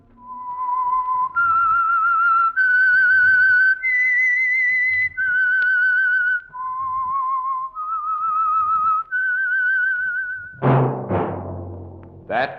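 A clear, melodic whistled tune from an old radio program's opening, sustained notes stepping up and down, loud and close, ending with a brief burst of other sound.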